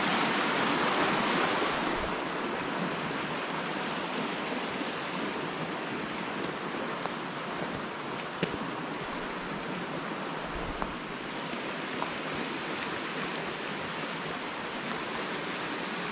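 A creek of ice-cold snowmelt water rushes steadily along a forest trail, a constant broadband flowing hiss close by with no voices.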